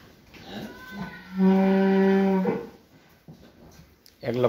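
A cow on a farm gives one long, loud, steady moo of about a second, set between quieter rustling and brief human sounds before and after.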